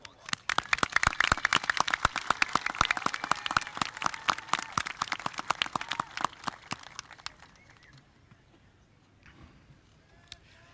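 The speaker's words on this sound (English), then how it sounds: "Graduates, please give your families and those people who have supported you to get to this point a round of" Graduation audience at a high school ceremony applauding, dense sustained clapping from a large crowd that swells then gradually thins and fades out over several seconds.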